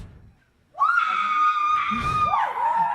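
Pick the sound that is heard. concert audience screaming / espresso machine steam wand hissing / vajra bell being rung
concert audience screaming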